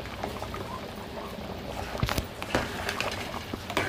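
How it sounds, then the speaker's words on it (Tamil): Goat head curry simmering in a pot in a Tamil home kitchen, a steady bubbling boil with soft pops and occasional sharper spits, close and continuous. "இது நல்லா ஒரு 20 நிமிஷம் நல்லா கொதிக்கட்டும்"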